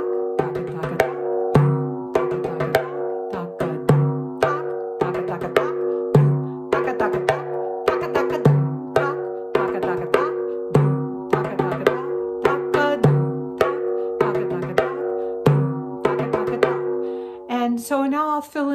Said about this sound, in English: some of these improvisational techniques that we can use on frame drumming